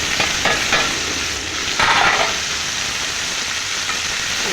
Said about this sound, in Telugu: ఈ బీరకాయలు ఉన్నాయి కదా, ఇవి అన్నీ నూనెలో వేసేస్తున్నాను.